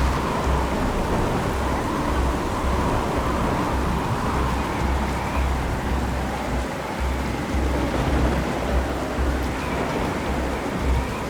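A tropical storm with a giant vortex in China unleashes heavy rain and rolling thunder: a loud, steady downpour roars throughout, with deep rumbles beneath it and no voices.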